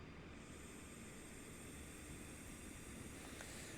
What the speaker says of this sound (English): Sounds like the APU is spooling up